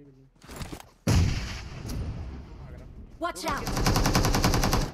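Grenades and gunfire in the mobile battle-royale game Battlegrounds Mobile India, with loud bursts of shots and blasts that cut in sharply and carry through most of the moment, mixed with game effects and some talk.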